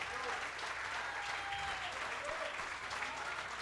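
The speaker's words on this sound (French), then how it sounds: "On peut les applaudir, mesdames, messieurs." An audience at an antiques trophy ceremony applauds in a steady, dense wash of clapping that holds evenly throughout, moderately distant and without any voices breaking through.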